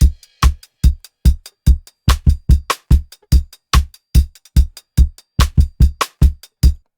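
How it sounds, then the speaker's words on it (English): Reggae drum loop with bass at a faster, jumpy tempo, with punchy kicks and snare hits in a steady, bouncing rhythm and a low bass line underneath, loud and close with no talking. "now sometimes you might have another drum loop or you might have created a different type of drum loop"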